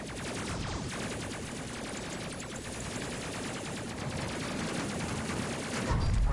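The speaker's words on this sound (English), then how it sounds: "Oh, Lil Mama taking some real shots" Gunfire from a squad's focus fire in the space video game Space Crew rattles as a dense, continuous burst of rapid shots, steady and fairly loud throughout, with a heavier thump near the end.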